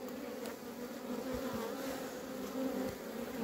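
A honeybee colony hums steadily in an open hive, a dense, even buzz with individual bees passing close now and then.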